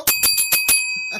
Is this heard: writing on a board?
no